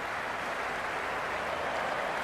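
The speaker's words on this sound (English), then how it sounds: "The crowd is electric right now." Stadium crowd cheering in the Cricket 26 video game during an India versus New Zealand match, a steady, dense roar of many voices filling the whole stretch without pause.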